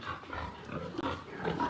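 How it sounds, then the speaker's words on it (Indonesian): Newborn piglets on a pig farm housing Landrace pigs, heard as soft scattered grunts and snuffles over a steady background hum, near and moderately quiet, with no talking. "Ada anak babi."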